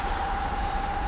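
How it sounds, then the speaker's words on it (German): A train approaching a railroad crossing in Rinkerode, Germany, with a steady rumble and a sustained warning tone running through it, loud and continuous. "Jetzt kommt der Zug. Und der braust."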